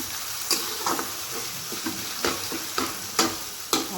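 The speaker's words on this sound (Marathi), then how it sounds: "आपले टॅमॅटो चांगले लाल कलरचे होईपर्यंत आपल्याला याला परतवायचं आहे" Tomatoes and onions sauté in a pan for palak bhaji, making a continuous frying hiss punctuated by regular spoon scrapes and taps about every half second, close and alone.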